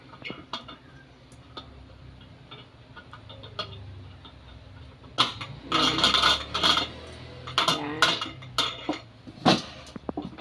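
A metal whistle weight is set onto the lid of a new pressure cooker, giving a quiet stretch and then a cluster of close, sharp metallic clinks and taps, with a few more scattered clicks afterward and no talking.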